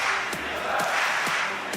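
A large arena crowd cheers and roars steadily at a DreamHack Winter 2014 Counter-Strike: Global Offensive match in Jönköping, a dense continuous wash of voices with a few sharp clap-like accents.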